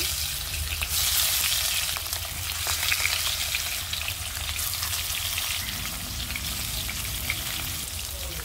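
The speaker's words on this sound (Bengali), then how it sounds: "তো তেলটা গরম হয়ে গেছে, মাছ দিয়ে দিচ্ছি।" Rohu fish frying in hot mustard oil gives a constant close sizzle and crackle, fairly soft, with no one speaking.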